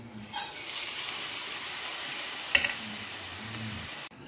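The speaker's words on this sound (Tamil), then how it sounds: "இத நல்ல ஒரு 10 நிமிஷம் வறுக்க போறோம்." Washed, drained rice dry-roasting in a pan: a soft, even hiss and rustle close by with one sharp clink midway, then a sudden stop, no voices.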